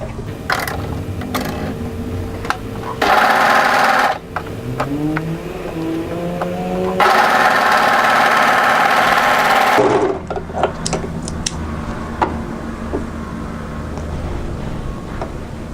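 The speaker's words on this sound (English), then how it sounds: "overlock between the notch here and here" An overlocker sews a dress seam between notches, with a close mechanical whir that surges in two loud runs separated by quieter stretches of clicking and handling.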